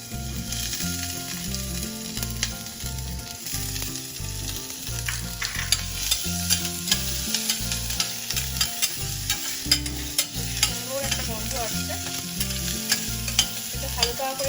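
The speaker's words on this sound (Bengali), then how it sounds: "এটা হালকা করে ভেজে নেবো।" Chopped ginger and garlic with cinnamon, green cardamom and cloves sizzle steadily in a pan, with frequent stirring scrapes and clinks over the continuous frying hiss; music plays underneath throughout.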